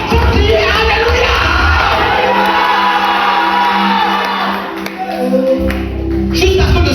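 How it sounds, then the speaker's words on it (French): A church congregation shouts and cheers Alleluia together during a powerful sermon, a dense, loud crowd roar that swells continuously and dips briefly before rising again. "Et si tu es d'accord, faut crier Alléluia."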